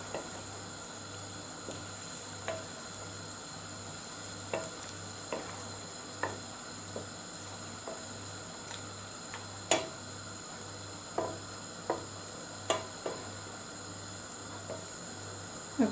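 A Malaysian vegetable curry simmering under a lid in a pan, making a soft, continuous bubbling sizzle over a low hum, with scattered faint ticks and pops.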